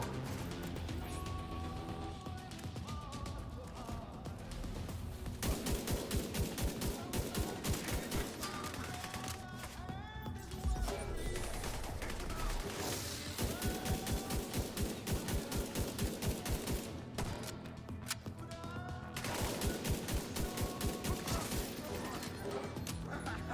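An automated turret in The Division 2 fires long, rapid bursts of gunfire in several rounds, with crashes and impacts and game music and effects underneath.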